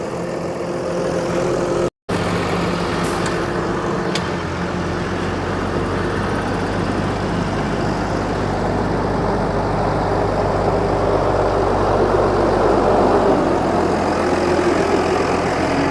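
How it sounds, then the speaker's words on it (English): A large Case tractor engine runs steadily at a classic vehicle road run, a loud continuous low rumble with idling tone that stays close and constant throughout, with no talk. "Another huge case tractor coming in."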